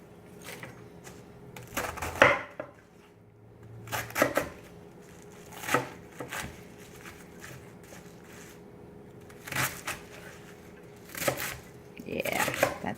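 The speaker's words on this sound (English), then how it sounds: "And then cut that up in 1-inch chunks also." A kitchen knife chops vegetables into 1-inch chunks for pot roast, striking a board in scattered clusters of sharp taps with pauses between them, fairly close and moderately quiet, with a faint steady hum under it.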